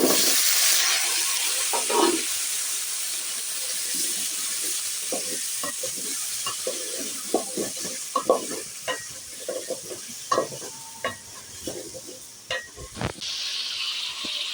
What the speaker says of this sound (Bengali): পরিমাণ মতো পেঁয়াজ ও কাঁচামরিচ কুচি দিয়ে একটু লাল লাল করে ভেজে নিতে হবে।